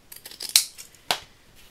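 Close-up scissor snips cut Christmas paper for a handmade card, with a few light rustling clicks leading into two crisp cuts roughly half a second apart, then quiet.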